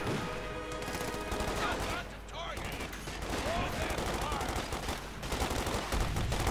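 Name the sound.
submachine gun and bazooka fire in Company of Heroes 2 video game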